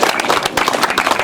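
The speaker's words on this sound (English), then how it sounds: "Big round of applause there for Eamon for the time." An audience claps for a singer about to perform at a music session, a lively, close, continuous patter of many hands with no voices over it.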